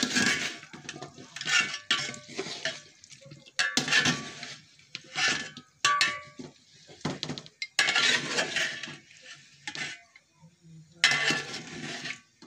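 Metal utensil scraping and clinking against a cooking pot as meat is stirred, repeated irregular clanks and scrapes, close and fairly loud with short pauses between bursts.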